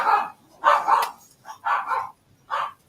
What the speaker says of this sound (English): I will not miss those dogs when they move.